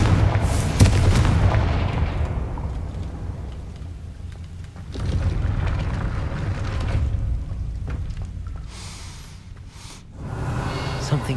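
Confringo explosive spell blasts in the Hogwarts Legacy video game: heavy booming detonations near the start, around the middle and again near the end, each followed by a rumbling decay.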